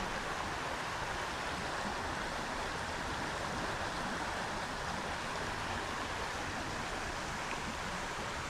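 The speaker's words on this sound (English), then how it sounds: "Listening to a water break in the middle of the stream." A small stream flows and breaks over rocks outdoors, a steady close rush of water without pause and no voices.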